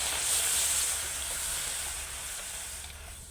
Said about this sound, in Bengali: দেখুন জল তো ফুটছে